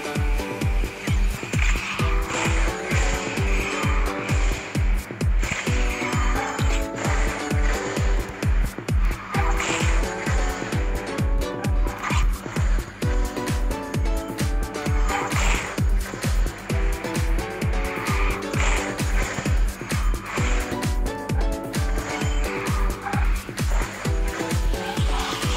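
Race cars in the Garena Speed Drifters mobile game roar continuously, engines droning with rhythmic pulses and occasional tire squeals over a steady backing music track, loud and unbroken throughout.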